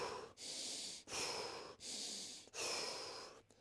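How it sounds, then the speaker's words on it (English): Rhythmic breathing shown as a running technique, drawing in through the nose and out through the mouth, about four quiet, close breaths, each a soft airy rush separated by brief pauses. "So I can still breathe in through my nose and out through my mouth"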